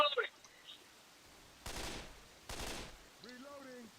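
Gunfire in the zombie shooter Left 4 Dead 2 comes as two short, fairly loud bursts of shots a moment apart, with brief voice sounds before and after them.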